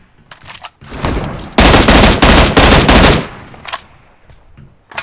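Shotgun fire in a mobile battle royale game match, a burst of loud, dense shots lasting about two seconds, preceded and followed by quieter scattered gunfire and action sounds.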